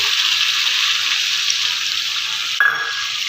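Chicken masala sizzles loudly and steadily in a pan after a splash of water, a dense hissing fry heard up close, broken near the end by a brief clatter of stirring.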